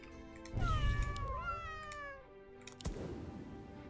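A cat unit in the strategy game Legion TD 2 gives a long, wavering meow, close and clear, followed by a short rustle of game sounds.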